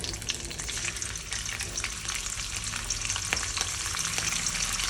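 Dried fish frying in hot oil gives a dense, continuous crackling sizzle with sharp pops, loud and close throughout, and no voices.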